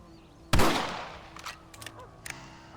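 A single loud rifle shot in the Western video game Red Dead Redemption cracks sharply and decays over about half a second, followed by a few faint, brief clicks and rustles.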